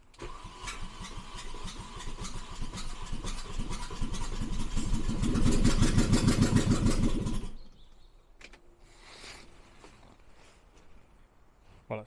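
An old car engine cranks, catches and runs roughly for several seconds before cutting out, leaving quiet background noise and faint knocks.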